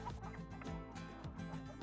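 Chickens cluck softly at a distance in a farmyard scene, with quiet, irregular fowl calls and murmurs sitting low in a faint background.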